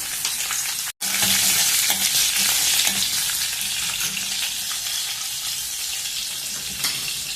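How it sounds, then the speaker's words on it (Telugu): Mustard seeds, cumin, dry red chillies, curry leaves and green chillies sizzling in hot oil, a loud steady crackling hiss close up, with a brief drop early on and no voices. "ఇప్పుడు ఆవాలు, జీలకర్ర, ఎండుమిర్చి, కరివేపాకు, పచ్చిమిర్చి అన్నీ వేసేద్దాము."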